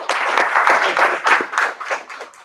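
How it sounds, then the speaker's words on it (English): An audience at an awareness session claps loudly, a dense burst of many hands that swells and then tapers off over a couple of seconds, with no talking on top. "Loud clap for him."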